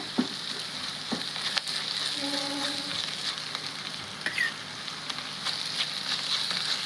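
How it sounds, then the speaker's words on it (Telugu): Ginger paste frying with shredded cabbage in a pan for a cabbage chana dal curry, a continuous close sizzle with occasional stirring clatter and no talk. "ఇదైతే ఫ్రై అయిందండి ఇంకా కొద్దిగా కావాలి"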